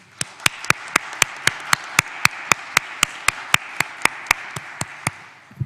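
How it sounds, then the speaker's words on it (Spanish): A few participants in a human rights subcommission session clap in slow, even unison at the close of a meeting, about twenty sharp, evenly spaced claps over a quiet background. "despedimos con un aplauso a Daniel Urrutia"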